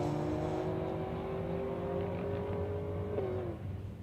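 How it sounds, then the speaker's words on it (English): A little Toyota Hilux launches off a drag strip start line at Warwick Dragway, its engine roaring loud and close with a bunny hop while scrabbling for traction, revs rising then easing. "Sam George in the little Hilux, trying to get some traction out the start line"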